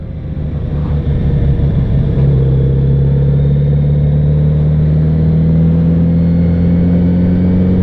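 A Kawasaki Z900RS motorcycle engine runs steadily on a chilly day, a loud close rumble that rises slightly in pitch and then holds an even drone, with no talk.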